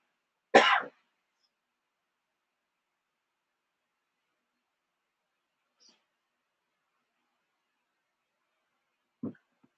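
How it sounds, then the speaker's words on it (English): A single short throat clearing in a quiet room, then near silence, with a brief faint cough-like sound near the end. "Let me clear my throat."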